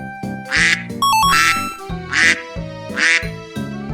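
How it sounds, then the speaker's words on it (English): A duck quacks four times in a steady rhythm, each quack loud, nasal and close, with a soft synthetic melody and a brief chime playing underneath. "duck,"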